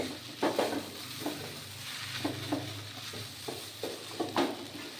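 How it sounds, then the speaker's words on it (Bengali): A spoon scrapes and stirs a thickened carrot rasmalai mixture in a kadai over a low flame, giving soft repeated scraping strokes over a faint sizzle, quiet and close. "একটু নাড়াচাড়া করে নেব এটা কড়াই থেকে ছেড়ে দিয়েছি মানে পাকটা এসে গেছে"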